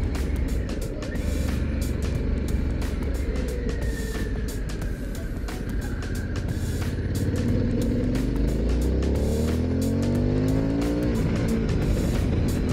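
A 2022 Harley-Davidson Pan America 1250 Special motorcycle engine revs and accelerates steadily on a ride, rising pitch sweeping upward near the end, with wind rush and no talk.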